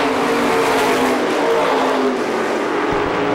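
350 supermodified race cars roaring on an oval track at the 2005 Star Classic: a loud, continuous engine drone from several cars running together, steady throughout.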